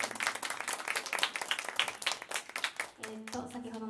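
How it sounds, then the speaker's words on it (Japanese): Audience claps after a rock band plays at a music-store event. The close, crisp claps fade out, and then a voice starts talking. "拍手をお願いします"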